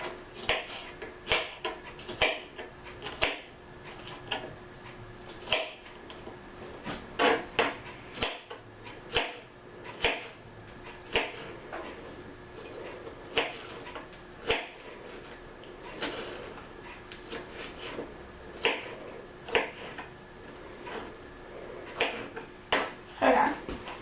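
A knife slices peaches on a cutting board, giving soft, irregular thuds and clicks at close range in a quiet kitchen, with occasional low background noise between the cuts.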